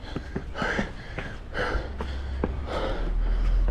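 Heavy, ragged breathing from a runner just after a steep hill climb on a long 24 km run, a string of close, loud gasping breaths and snorts repeating at an uneven rhythm, with no talk.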